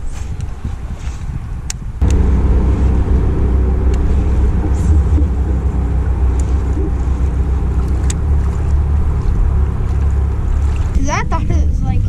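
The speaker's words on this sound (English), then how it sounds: "We're actually out here doing the break-in on the motor" An outboard boat motor running through its break-in on Patoka Lake, a loud steady low drone that kicks up a couple of seconds in, with wind buffeting and brief talk over it.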